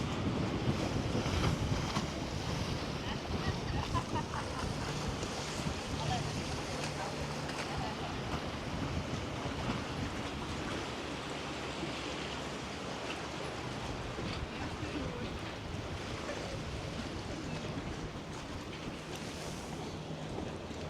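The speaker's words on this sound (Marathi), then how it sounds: "आणि दुसरी बोट आली" A tour boat on Loch Lomond at Luss, with waves and steady wind rush filling the scene in a continuous, fairly loud wash of water and engine noise, and faint voices underneath.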